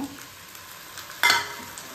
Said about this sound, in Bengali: দেখো পেঁয়াজটা ভাজা হয়ে গেছে। এখন এই আদা রসুনের পেস্টটাকে দিয়ে দেব।